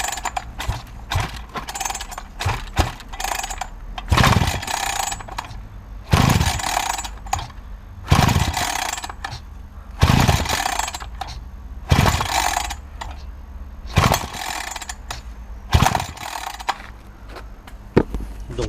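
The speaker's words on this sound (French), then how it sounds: "Donc maintenant je vais essayer de la démarrer, on va voir si ça démarre ou pas." The starter cord of a chainsaw that won't start is pulled again and again, roughly every two seconds. Each pull gives a ratcheting rasp and a brief cough, but the engine never catches, and no voices speak.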